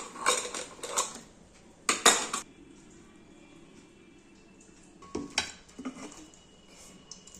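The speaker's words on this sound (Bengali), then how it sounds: "এখন আমি প্রেসার কুকারটা আপনাদের সামনে খুলে দেখাচ্ছি" Metal clanks and rattles of a pressure cooker lid being handled and opened in a home kitchen while cooking chana dal, a few sharp bursts near the start and again later, with quiet gaps between and no talk.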